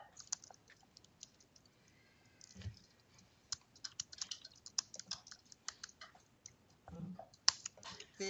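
Quiet, irregular keyboard tapping comes in scattered bursts as a text message is typed, close and soft, with brief pauses between runs of clicks.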